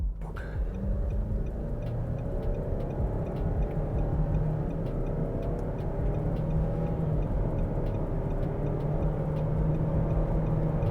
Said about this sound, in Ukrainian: розгін по паспорту до сотні у нас 10 секунд, що ми зараз з вами і перевіримо